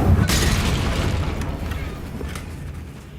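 The Confringo fire spell explodes in the Hogwarts Legacy video game as a single loud, close boom that rumbles and fades over about three seconds.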